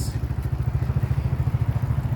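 A motorcycle engine idles nearby on a city street, its low rhythmic putter pulsing steadily and fairly loud, with a brief clatter at the start.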